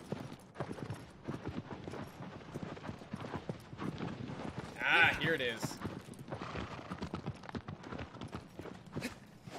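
Horse hooves clip-clopping in Shadow of the Colossus as the rider steers the mount, a steady trotting rhythm under continuous excited talk, with a brief louder burst midway.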